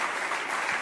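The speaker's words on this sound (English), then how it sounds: "That's an applause line." Steady applause from an audience during a political speech about a House majority and the Equality Act, a dense, even wash of clapping that fills the short moment without any voice.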